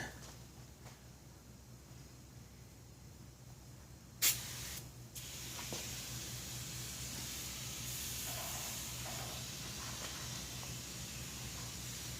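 Oven cleaner sprayed onto the greasy engine of a 1966 Ford F100 shop truck, a sharp hiss burst from the can followed by a steady sustained spraying hiss, close and moderately loud.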